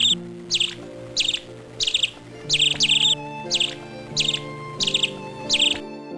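Birds chirp in a cluster of about nine short, bright bursts at a steady rhythm inside Mahasu Devta temple at Hanol in the Garhwal Himalaya. A low, steady drone hums underneath.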